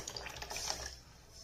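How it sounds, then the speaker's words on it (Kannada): Cooked lima bean stock poured into a pot of sambar, a soft, steady liquid trickle with faint splashing, quiet and close for about a second before tapering off. "ಈ ಕಟ್ಟೆಂಬು ಇದೆಯಲ್ಲ ಇದನ್ನೇ ಹಾಕ್ತಾ ಇದ್ದೀನಿ"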